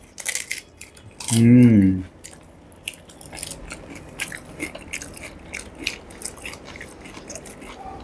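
Crunchy, spicy panipuri (fuchka) is bitten and chewed up close, with sharp crunches and clicks scattered throughout and a brief voiced sound near the start.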